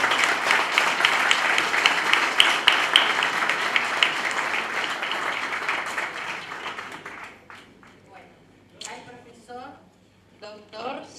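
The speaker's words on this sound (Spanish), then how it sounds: "Me refiero al maestro Amadeo Monjes, a quien les pido un gran aplauso." Loud, dense audience applause at a Paraguayan cultural event in Buenos Aires, sustained for several seconds before thinning out, after which someone speaks over the tail end.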